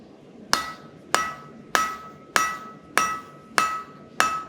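Hand hammer striking steel at near welding heat during blacksmith forging, seven sharp ringing blows at a steady rhythm about every half second, close and loud with a bright metallic ring decaying after each hit.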